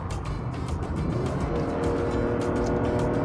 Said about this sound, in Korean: 엔진 사운드가 들려치면서 속도를 높여 나가는 요런 게 이 차의 아주 매력 포인트입니다